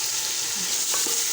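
Tadka sizzles in ghee in a pot over a low gas flame, a steady close frying hiss with faint stirring taps and no voices.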